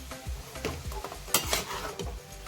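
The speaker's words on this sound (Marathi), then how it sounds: "या पद्धतीने हलवत हलवत याला तीन ते चार मिनिटे आपण परतून घेऊयात" Grated carrots stirred and sautéed in ghee in a pan for carrot halwa, with repeated scraping strokes of a spoon against the metal and a soft sizzle, close and fairly quiet with no talk.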